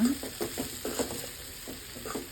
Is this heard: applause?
no